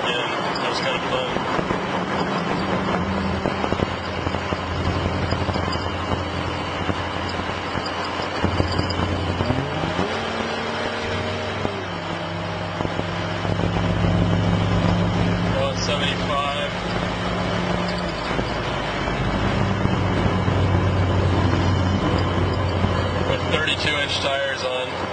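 Car fitted with a Jeepers and Creepers 62mm throttle body accelerating down the road, engine drone rising and shifting in pitch through gear changes, heard from inside with someone talking over it.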